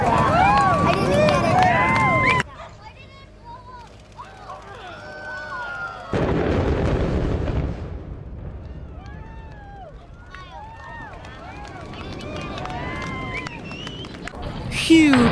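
Explosive charges bring down a large steel and concrete bridge, with deep booming blasts and rumbling, and an abrupt new burst partway through. A voice talks over much of it.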